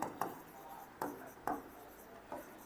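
Marker or chalk writing on a board in a biology classroom, a few distinct squeaky strokes at uneven intervals, close and fairly faint, with no talk over them.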